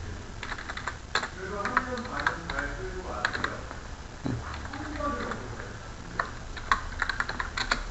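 Computer keyboard keys clack in quick irregular bursts while a Ctrl key is held down during spreadsheet cell selection, close and moderately loud, with someone speaking over much of it.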